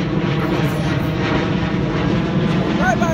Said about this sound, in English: Look at that plane go.